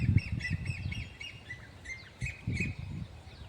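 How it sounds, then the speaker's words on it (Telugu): Birds chirping in a peaceful natural spot, repeated clear high tweets and trills in quick bursts, fairly close, over soft low rustling and thumps. "ఆ పిట్టల సౌండ్లు"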